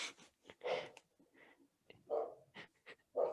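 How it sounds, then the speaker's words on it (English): Dogs bark close by in a home, a few irregular bursts of short, sharp barks with quiet gaps between them. No one talks. "Oh, my dogs are barking."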